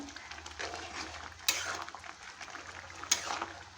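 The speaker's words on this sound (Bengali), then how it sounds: "হলুদ দিয়ে ভালো করে নেড়ে নেব" Boiled pumpkin greens, potato and pointed gourd are stirred with turmeric in a pan, giving soft, continuous scraping and clinking of a utensil against metal, with two sharper knocks partway through.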